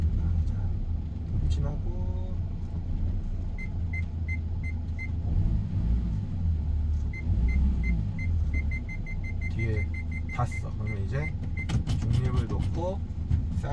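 A manual-transmission car reverses with a low, steady engine rumble, some faint beeps, and someone talking over it throughout.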